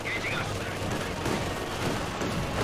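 Machine gun firing in a Company of Heroes 2 battle, a dense steady rattle of rapid shots blending with other gunfire, loud and continuous throughout.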